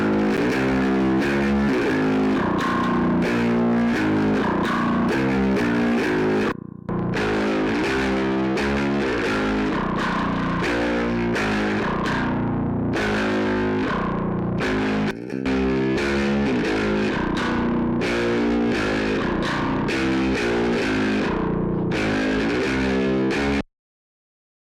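A bass guitar plays a riff through a Rat-style distortion emulation in the Cyberdrive plugin, low end cut, giving a gritty, mid-heavy, saturated tone in continuous phrases with two brief pauses and an abrupt stop.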